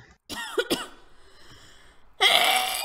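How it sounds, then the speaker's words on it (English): A woman coughs a couple of times in quick, close bursts, then falls quiet before a loud, dense burst of background noise cuts in. "I was coughing"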